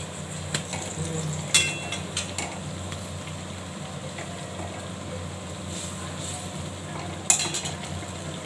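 Eggplant with turmeric being stirred and fried in a pan, a soft sizzle under occasional sharp scrapes and taps of the spatula against the metal.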